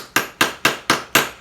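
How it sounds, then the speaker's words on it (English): A hammer striking a socket to drive a tensioner bearing into place, five loud, sharp metallic blows at an even pace with short ringing decays between. "sort of working the hammer around in a circle so that it's not trying to push one side down more than the other"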